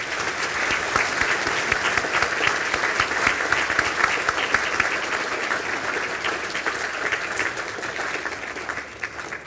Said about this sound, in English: I ask the graduates of the Higher Diploma in Software Development to stand for a round of applause